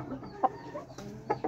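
Amroha Aseel rooster giving a few short, soft clucks close by, spaced irregularly over a faint background.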